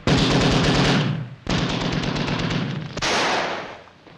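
Sustained machine gun fire from a 1943 British submarine war film, loud rapid bursts broken by two short pauses, with heavy low rumble and no talk.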